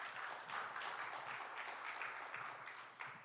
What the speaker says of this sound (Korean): 박수로 감사의 인사를 드리도록 하겠습니다.